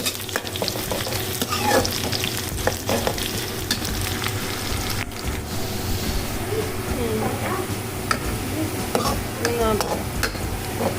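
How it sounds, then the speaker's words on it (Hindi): Onions fry in a pan for chana dal, a steady dense sizzle with frequent clinks and scrapes of a spoon stirring, close and continuous, while a voice talks faintly in the background. "और देखिए प्याज भी भुनने वाली है।"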